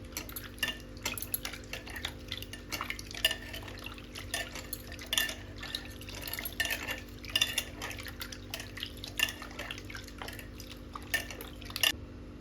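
Soaked tamarind squeezed and strained by hand in hot water for rasam, with soft wet squelches, drips and light clinks of a vessel in a steady close run, no talk.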